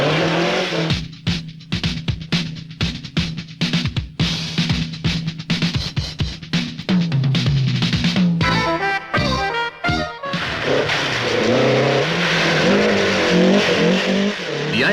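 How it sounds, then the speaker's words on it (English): Toyota racing cars in 1981 motorsport competition on circuits and rally courses, engines loudly revving and roaring past in rapid successive bursts, with tire squeal and shifting engine notes as the cars accelerate close by. "These superior Toyota racing cars are active in races on circuits and rally courses throughout the world"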